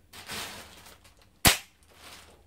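A K35 air rifle is cocked with a few soft mechanical scrapes and clicks, then fires once with a single sharp, loud crack, followed by quiet handling noise.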